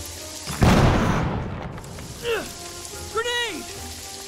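A grenade explodes in a prison-break video game with a sudden loud boom that rolls into a long rumbling, debris-like hiss and fades, followed by brief warbling voice-like sounds.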